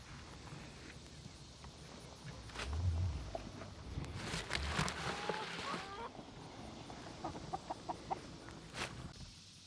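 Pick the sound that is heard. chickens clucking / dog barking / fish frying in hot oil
chickens clucking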